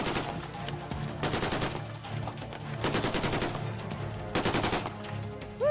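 A machine gun fires blanks on a film training set in repeated rapid bursts of loud, sharp shots, three main volleys separated by brief pauses.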